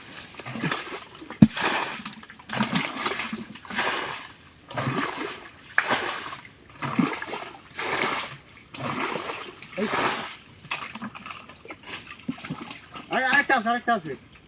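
Water splashes out of a bucket again and again as a small pond in a Malaysian palm plantation is bailed to catch magur catfish, rhythmic pouring splatters heard under almost constant conversation.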